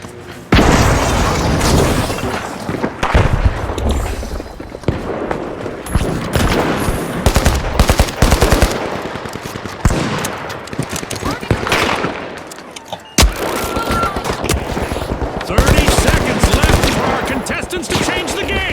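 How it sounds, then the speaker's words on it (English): Relentless gunfire and a frag grenade explosion in the game The Finals, with dense bursts of automatic fire and deep booms layered loud and close, continuing almost without pause, with voices speaking underneath the action. "Frag grenade out."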